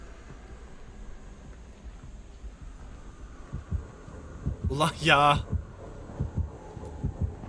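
A pounding heartbeat from the killer's terror radius in Dead by Daylight, the multiplayer horror game, thumps in low, steady pulses that grow stronger toward the end, while a man briefly exclaims over it.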